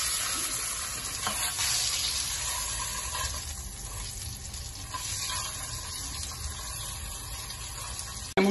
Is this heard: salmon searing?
yes